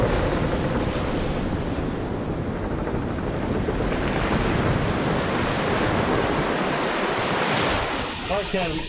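Ocean waves wash continuously in the sea of the video game Final Fantasy XIV, a steady, full roar of surf and wind-like noise with no gaps, ending with a brief softer dip.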